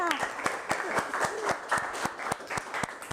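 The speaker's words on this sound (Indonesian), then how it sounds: "Tepuk tangan semuanya." A class of students claps hands in a classroom, sharp rhythmic claps in a steady patterned beat with chattering voices mixed underneath, fairly close and moderately loud.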